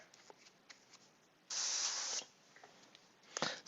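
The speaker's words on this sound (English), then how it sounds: "So we're going to spray this Griffhound orange." An aerosol can sprays orange paint onto a Griffhound miniature figure from Knight Models, one sharp hissing burst of under a second followed by a shorter hiss, with faint handling clicks between, close by.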